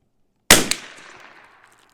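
A single sharp CZ 457 rifle shot fired during an ammunition test, loud and close, with a quick crack followed by a fading outdoor echo.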